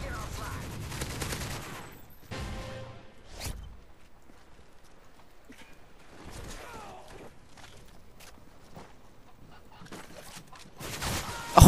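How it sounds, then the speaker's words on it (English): Automatic gunfire in Modern Warfare 3: a loud burst of rapid shots at the start, a short burst a few seconds later, scattered quieter game sounds in between, and another sharp burst at the very end. "I'm just gonna shoot my gun even though I can see there's no one there."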